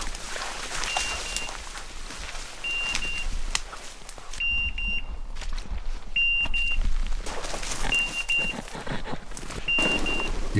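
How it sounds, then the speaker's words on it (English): A hunting dog's beeper collar sounds repeated short high electronic beeps in evenly spaced pairs, signalling a point out in the field during a hunt. Wind and rustling noise run steadily beneath the beeps. "Jonas uses a beeper collar, which emits a signal when the dog points."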